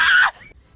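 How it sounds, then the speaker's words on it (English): A short, loud, piercing human scream lasting about a third of a second, cutting off sharply into quiet. "That scream was just unneeded."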